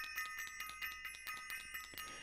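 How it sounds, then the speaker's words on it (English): A small bell is rung in a quick, repeated series of bright metallic dings, each strike ringing briefly, fairly faint and alone without any talking. "I'm going to ring the bell."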